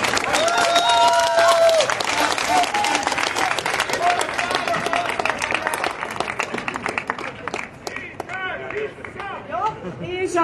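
A large outdoor crowd at a political speech event claps and cheers loudly and continuously, with whistles and shouts in the dense applause, which slowly thins out toward the end.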